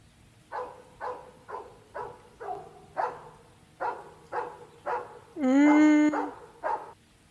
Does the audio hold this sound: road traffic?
no